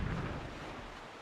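A warship's cannon fires in a video game, a single deep distant boom that rolls into a fading low rumble with no talk over it.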